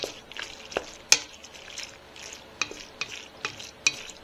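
A spoon stirs a pot of Kraft Deluxe mac and cheese up close, making a series of scraping clinks against the pot with a thick, wet squelch between strokes.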